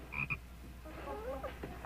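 Frog croaks from a 1954 adventure drama, a couple of short, close croaks followed by a softer warbling call over a faint background hum.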